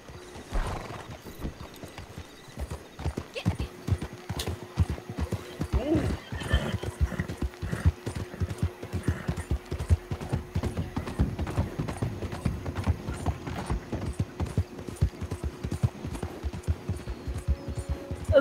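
Horse in the western game Red Dead Redemption 2, hooves clip-clopping in a steady rhythmic gait for many seconds, with a whinny early on and a faint sustained tone in the background.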